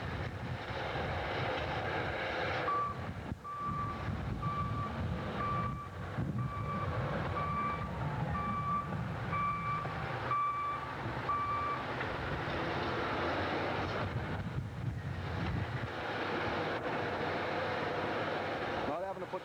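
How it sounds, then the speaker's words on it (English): A bulldozer digging a ditch for a cedar culvert on a logging road rumbles steadily while its reversing alarm beeps in a regular series, with someone talking over the machinery. "Here we've got the bulldozer digging a ditch for a cedar culvert"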